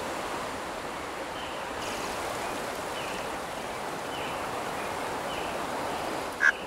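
A steady, soft rushing of a nearby river stream from a sound library, continuous broadband water wash at low level with a few faint higher chirps and one brief click near the end.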